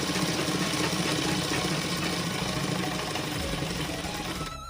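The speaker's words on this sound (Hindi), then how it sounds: "अब हम इसे बैक करेंगे और डबल कर लेंगे सिलाई को।" A sewing machine back-stitches to double the seam on a salwar, running continuously and loud throughout with a steady mechanical whir, easing slightly near the end, and no talking.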